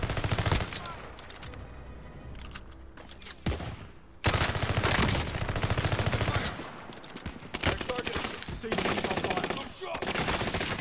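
Rapid automatic gunfire from Call of Duty: Modern Warfare, loud and close, with sustained bursts and dense volleys that drop briefly around four seconds before resuming at full intensity.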